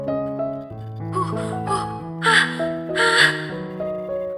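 Strained, heavy gasping breaths come in short bursts over a sustained musical backdrop, sounding pained and close.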